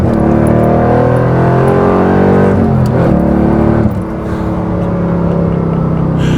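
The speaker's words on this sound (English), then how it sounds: "This is the highest revving Corvette I've ever experienced." A 1991 Corvette ZR-1 V8 pulling hard under acceleration, its engine note climbing steadily in pitch, dropping briefly at a shift near the end and building again, loud and close from inside the car.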